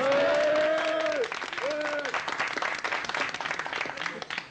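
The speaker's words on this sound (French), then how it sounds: "Vous pouvez maintenant les applaudir." Television studio audience clapping rises under a sustained melodic tone at the start, then continues as scattered, fairly close applause after the tone fades.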